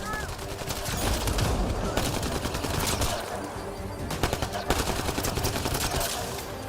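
Rapid gunfire in Mass Effect: Andromeda: dense, continuous bursts of automatic shots with sharp cracks throughout, loud and close, with a brief lull midway.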